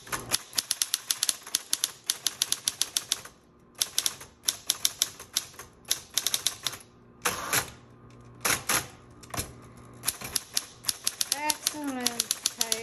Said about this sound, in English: And you can keep typing if you want.